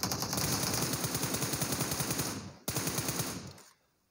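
Rapid automatic gunfire from a PUBG Mobile match, a dense rattling burst that cuts off briefly, resumes, then stops abruptly; loud and close with no talk.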